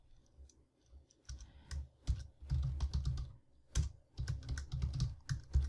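Code is typed on a computer keyboard in quick irregular bursts of close, crisp key clicks separated by short pauses.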